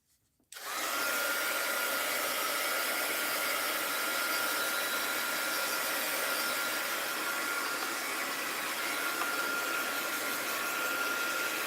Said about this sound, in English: Now, let's get my heat gun out.